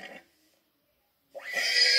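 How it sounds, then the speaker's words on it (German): A horse whinnies in a stable at night, a short burst at the start, then a louder, sustained neigh rising near the end after a pause of silence. "Dieses Pferdegeräusch"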